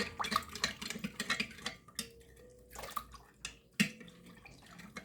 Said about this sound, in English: Now you just stir that up a little bit.